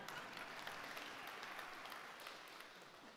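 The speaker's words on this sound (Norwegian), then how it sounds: "Så jeg pleier å få applaus for det, takk." Applause from a conference audience greets a speaker, a faint, even wash of clapping heard from a distance with no talking over it.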